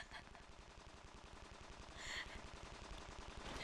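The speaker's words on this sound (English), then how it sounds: "Gunfire fills the battlefield." Rapid machine-gun fire crackles across a battlefield in the video game Reverse: 1999, a faint, dense rattle of shots that runs steadily with a slight swell partway through.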